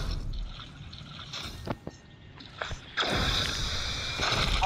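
A game character wading through water in PUBG Mobile, soft splashing and trickling movement that builds into a louder, steadier sloshing toward the end, with no talk over it.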